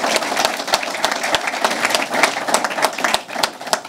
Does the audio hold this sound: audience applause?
yes